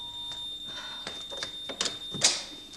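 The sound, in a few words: smoke alarm going off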